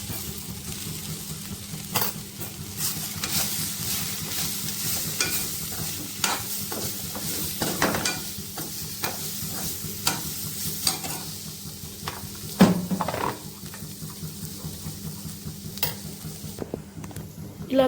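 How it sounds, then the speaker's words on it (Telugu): Drumstick leaves with chili powder and spice powder frying in oil, stirred steadily with a utensil that scrapes and clinks against the pan over a continuous close sizzle, with no talking. "ఇలా కలిపాక కొద్దిసేపు కొంచెం ఈ పౌడరు మునగాకంతా కలిసి కొంచెం ఆయిల్లో మగ్గితే టేస్టీగా ఉంటుంది"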